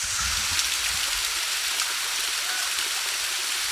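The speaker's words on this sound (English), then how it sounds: "we reach a waterfall" A waterfall on a hiking trail pours steadily nearby, making a dense, continuous rushing hiss that stays loud and unbroken throughout, with no voices.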